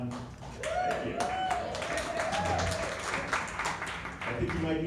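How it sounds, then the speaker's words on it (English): An audience at a county Democratic pre-election dinner claps steadily in a sustained round of applause, the dense patter holding for several seconds while a voice carries on over it. "I think you might be applauding Indiana 9"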